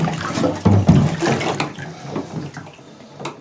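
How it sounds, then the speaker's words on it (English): Water gushes and splashes out of upturned plastic water containers being drained after sterilising, a loud, close, continuous pouring with a few heavier surges. "All these have been turned upside down a couple of times now, so that will flood away"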